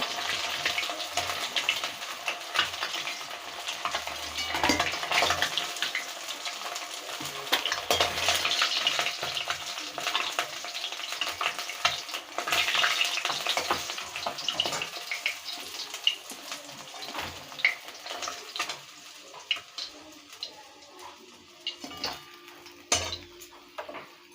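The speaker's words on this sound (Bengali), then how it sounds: "এইভাবে মাছগুলো সব ভেজে নেবো।" Fish fry in hot oil in a pan for a village Bengali fish curry, a steady crackling sizzle running throughout, with occasional clinks of a utensil against the pan and no talking.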